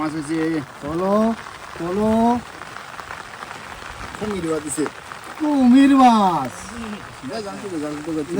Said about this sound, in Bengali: জল বৃষ্টি দাদা